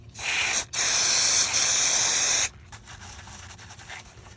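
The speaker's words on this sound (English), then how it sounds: "So I'm just going to use this right here from CRC, the QD electronic cleaner." CRC QD electronic cleaner sprayed from an aerosol can onto oily electrical contacts on a 2005 Dodge Ram 5.9 Cummins, two close, loud hissing bursts, the second lasting nearly two seconds, followed by faint dripping and quiet ambient noise.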